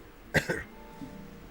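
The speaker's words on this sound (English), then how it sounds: "He's coughing." A video game character from Genshin Impact coughs twice in quick succession, a pair of rough bursts, fairly close and clear, followed by a quiet tail with faint background sound.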